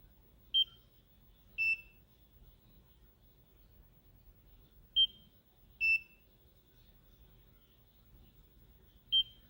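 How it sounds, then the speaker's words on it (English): A skin treatment device emits short high-pitched beeps, five of them at irregular intervals, clear and close against a quiet background, with no voices. "It makes a beep"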